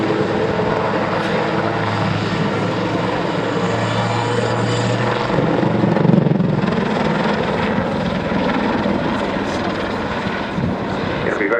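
Westland Lynx helicopter performing a backflip at an airshow, a loud continuous rotor and turbine roar with a steady low thrum that swells slightly mid-flight, heard alone from a moderate distance.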